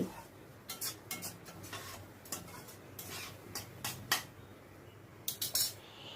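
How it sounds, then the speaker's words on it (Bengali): A metal spoon stirring and scraping masala for chicken curry in a pan over a high flame, sharp irregular clinks and taps over a soft background hiss, with no talk. "মশলাটাকে এবার আমি কষিয়ে নিচ্ছি, হাই ফ্লেমেই রেখেছি। অনবরত কিন্তু নাড়তে হবে।"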